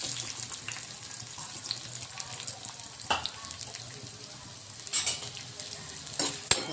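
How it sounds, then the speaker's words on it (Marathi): Chopped onion added to half a spoon of hot oil for chana chaat, sizzling and stirred in a pan, with a steady low frying hiss broken by a few sharper scraping and clattering bursts, no talking. "आता यामध्ये कांदा घालणार आहे."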